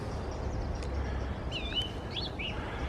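An outdoor bird call, a few clear whistled chirps and short rising-falling notes, moderately near over steady low background rumble, with no talking.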